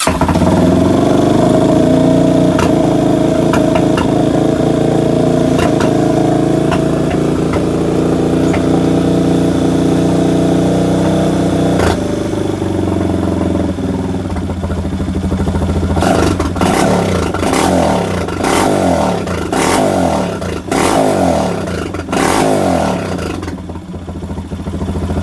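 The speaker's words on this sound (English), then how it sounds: "So the bike is officially running." A motorcycle engine, just repaired after a carburetor fix, runs close by at a steady clattering idle, then revs in a series of sharp bursts toward the end, with no talking.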